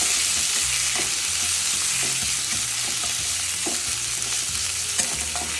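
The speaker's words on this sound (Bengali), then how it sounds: "এবার আমি আদা, মৌরি, কাঁচা লঙ্কা বাটাটা দিয়ে দিলাম। ভালো করে কষাবো।" Ginger, fennel and green chilli paste frying in a pan for a vegetarian Bengali dum aloo, a steady close sizzle with regular scraping stir strokes knocking every second or so, no voices.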